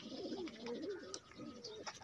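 Soft, throaty cooing of pigeons, repeated in low rolling phrases, close by and fairly quiet.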